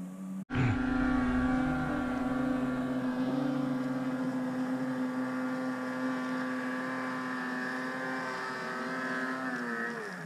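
A snowmobile engine with a Rev chassis drones steadily with a strong buzzing tone as it runs outdoors in a snowy basin, holding loud and fairly even for about ten seconds with slight pitch drift, no speech.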